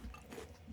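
Someone bites and chews oversized, crunchy whole grain oat sugary cereal, similar to Lucky Charms; a short, close burst of crisp crunching with no talking.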